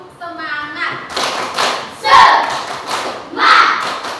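A class of children in an Indonesian classroom perform a rhythmic clapping chant, with bursts of hand claps in a steady pattern mixed with the children's chanting voices.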